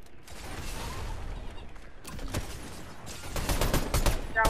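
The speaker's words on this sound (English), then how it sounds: "Suppressing fire." Gunfire in Fortnite during a Winterfest match: bursts of rapid, clattering shots building toward the end over a busy game soundscape, with faint voices.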